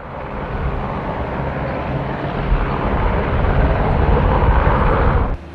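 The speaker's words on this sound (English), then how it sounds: "Helicopter discharge of logs continues using three helicopters." A steady, loud mechanical roar from helicopters, part of a team of three, lifting logs off a barge during a salvage operation; the drone swells slightly before cutting off abruptly near the end, with no talk.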